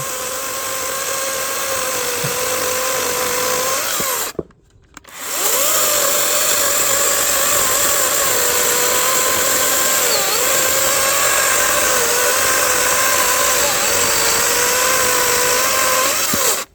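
Cordless battery-powered saw cutting steadily, a loud continuous motor whine that halts briefly and then starts again for a long uninterrupted run.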